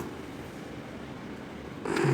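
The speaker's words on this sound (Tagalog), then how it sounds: "Inhit po ang aking pusa." A domestic cat purrs close by in a steady, low, continuous rumble, with a louder rustle cutting in at the very end and no one speaking.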